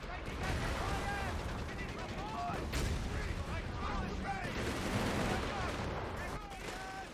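Gunfire rattles through a match of Company of Heroes 3, with repeated shots and bursts at a moderate distance and a player talking over the battle.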